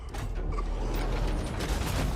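A door in the video game System Shock (2023) grinds shut with a steady, close mechanical rumble and creak that lasts about two seconds.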